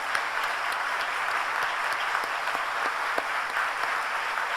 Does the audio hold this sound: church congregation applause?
yes